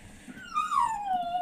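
A dog gives a single drawn-out, high whimpering whine, close and clear over a faint background hum, no voices.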